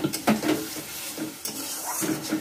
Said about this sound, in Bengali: মশলা কষাচ্ছি।